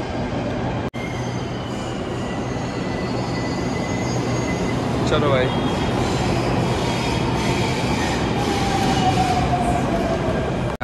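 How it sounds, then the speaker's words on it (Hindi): Metro train running with a continuous loud rumble of wheels on rails, a rising squeal of wheels partway through, and a brief spoken remark near the start. "मेट्रो आ ही गई है"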